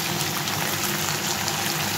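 Finely chopped onions dropped into hot oil for mutton kosha, giving a steady, loud, continuous sizzle with no talking.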